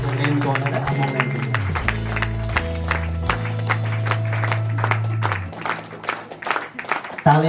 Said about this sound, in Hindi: तालियों के साथ में